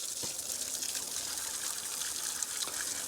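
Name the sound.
water running onto engine from a hose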